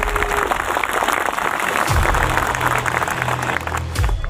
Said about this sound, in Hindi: एक बार तालियां बजा के स्वागत करें